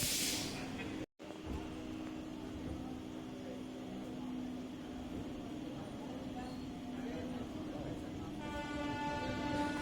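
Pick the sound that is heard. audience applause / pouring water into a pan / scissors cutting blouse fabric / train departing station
train departing station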